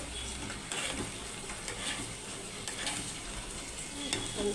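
Hilsa fish paturi wrapped in bottle gourd leaves sizzles steadily in a frying pan, with soft scraping and clinks as the parcels are flipped; continuous close frying hiss throughout.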